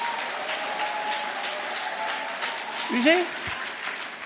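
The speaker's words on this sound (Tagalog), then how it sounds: "lakasan niyo yung palakpak" Congregation applauding during a Tagalog sermon, a continuous wash of clapping heard under a voice briefly speaking.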